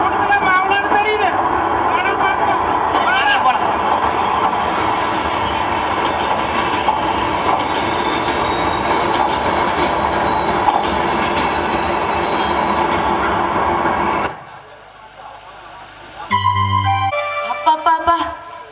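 Train arrival sound effect played during a Tamil stage drama: a loud, sustained rumble with squeals and clatter that cuts off abruptly, followed by bursts of other stage sounds.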